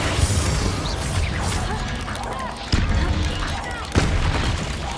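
Bombarda explosion spell in the video game Hogwarts Legacy, a dense roaring blast with crashing debris, then two sharp booming hits about a second apart, all loud and continuous.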